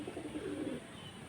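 Fancy pigeons at a pigeon-keeping place coo nearby in a low, throaty, rolling burble that runs steadily for about a second before easing off, with no talking.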